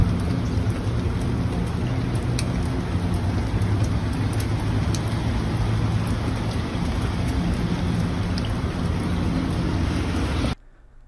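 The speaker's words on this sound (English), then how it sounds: "it's raining again today" Steady, heavy rain pours continuously with a dense hiss and low rumble, then cuts off abruptly near the end.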